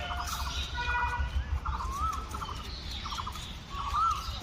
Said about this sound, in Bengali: আরে কুকিল ডাকতেছে সুন্দর করে